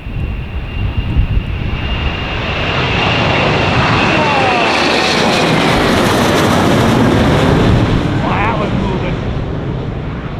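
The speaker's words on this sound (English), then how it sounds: "I'm talking about dirty shoes and I got a plane taking off." An Alaska Airlines jet roars loudly as it takes off from Kahului Airport, Maui, bound for Los Angeles, the engine noise swelling and sustaining, with wind buffeting the microphone.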